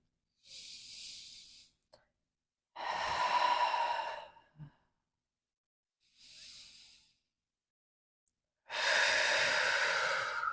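Slow, deep breaths during a yoga practice: four audible breaths alternating with silence, inhales quieter and higher, exhales fuller and longer with a rushing, sigh-like quality, close to the microphone.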